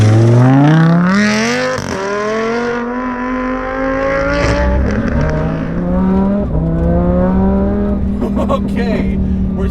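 A supercharged 700 whp Lamborghini Huracan VF900 revs and accelerates in Corsa mode, its loud, rising engine note climbing steadily, dipping between gear changes and then pulling again with a harsh, continuous roar close by.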